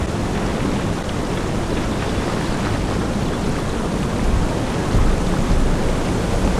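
Steady, dense rushing water from a waterfall in the fantasy game Lord of the Rings Online, Fangorn area, a constant broadband roar that holds evenly throughout without talk.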